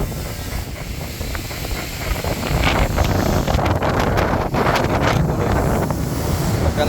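Strong wind buffets the microphone outdoors, a loud continuous rumble that swells partway through with no voices.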